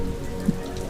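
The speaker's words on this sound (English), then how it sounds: "I don't care about the rain." Steady rain falls on a surface in a Cancun wedding setting, a constant close patter with one brief louder drop and no voices.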